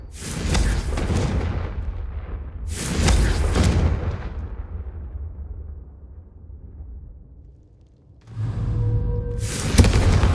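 Fiery Confringo spell blasts in the video game Hogwarts Legacy: three heavy, booming explosions, each rumbling and then fading, with a quieter lull before the last one.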